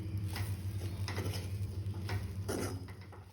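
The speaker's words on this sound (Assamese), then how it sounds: "এতিয়া ভাজি থাকিব।" Food frying in a pan is stirred with a few soft scraping strokes, quiet and close, set against a steady low background hum.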